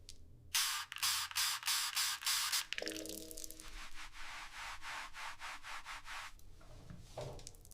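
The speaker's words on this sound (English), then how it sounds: "it is basically removing the rust and, the background ASMR sound effects, everything turned out really, really good" Rust removal sound effects for an ASMR piece: a run of sharp rhythmic sanding and rubbing strokes up close, then a steadier hissing spray with faint scraping underneath.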